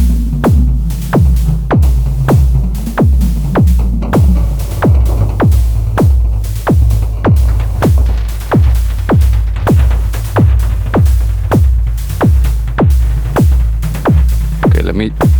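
Modular synthesizer patch with an LFO modulating reverb size: a loud, deep pulsing bass tone repeating in a steady rhythm, each hit leaving a bright click and washy tail, shifting pitch slightly over time.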